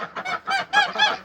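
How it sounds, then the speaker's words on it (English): A guarding goose on a farm honks repeatedly in close, loud, rhythmic bursts, about five harsh calls in quick succession with no one talking. "You're being a good guard, Goose"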